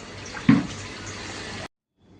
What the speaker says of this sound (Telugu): ఇదిగోండి నీళ్ళు కూడా నిండుతున్నాయి